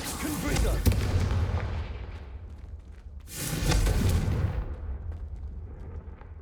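Confringo fire spell blasts in Hogwarts Legacy burst out twice as roaring fiery explosions, each a loud whooshing boom that fades slowly, one after the other.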